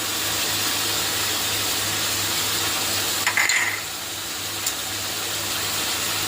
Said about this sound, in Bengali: এটাকে এখন মশলাটা ভালো করে আমি কষিয়ে নিই।